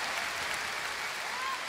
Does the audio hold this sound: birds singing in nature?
no